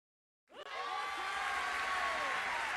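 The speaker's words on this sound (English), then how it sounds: "why are there people cheering?" A crowd cheers and applauds in the video game Twisted Wonderland, starting abruptly after a moment of silence and then holding as a broad, even roar with no voices on top.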